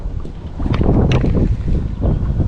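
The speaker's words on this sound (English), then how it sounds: "Holy crap, it's windy," Strong wind roars across the microphone on a lake while fishing from a boat, a loud, steady buffeting with no talk.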